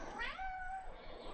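A house cat gives a single clear, rising-then-falling meow, close by and alone over faint room noise.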